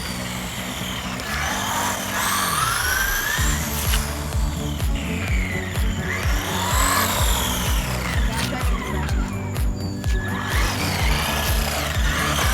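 A Traxxas Bandit 2WD RC car drives on its electric motor, giving a loud, steady whine that rises and falls as it speeds up and slows, with occasional tire scrubbing and people talking throughout.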